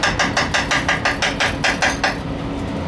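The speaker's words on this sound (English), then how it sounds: "we're going to whisk this in." A whisk works through pumpkin soup in a pot, making around ten rapid, evenly spaced taps close by before it falls quiet.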